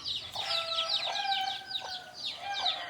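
Country hens and their small chicks call at close range, with high repeated peeping from the chicks over softer low clucks from the hens, fairly quiet and continuous.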